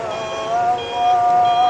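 Reversing beeps from a dredging truck backing up at a mud-dredging site by a canal, a steady repeating tone, fairly close and clear, with a low engine hum beneath.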